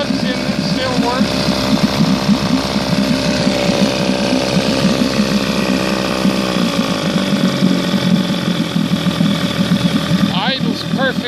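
A 1967 Evinrude 18 hp outboard motor, still rusty and unrestored, idles steadily and loudly at close range in a continuous even drone, its pitch dropping slightly partway through as someone talks over it.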